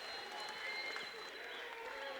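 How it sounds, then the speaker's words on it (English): The crowd at a Shamrock Charged mixed martial arts fight event applauds the fighters after a bout, a faint, steady spread of clapping with cheering voices mixed in. "Let's give both of these fighters a big round of applause."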